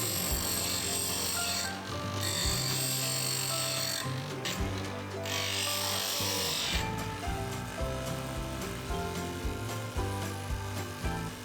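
A drill bit clamped in a simple sharpening jig is ground against a grinder, giving a steady, continuous abrasive whir with brief dips in intensity as the edge is worked.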